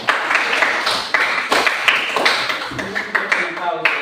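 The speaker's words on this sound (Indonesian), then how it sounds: "Dan email, ya, kita berikan tepuk tangan." An audience clapping for a student who showed a singing talent at a school event, a scattered run of claps and taps with a voice talking over it.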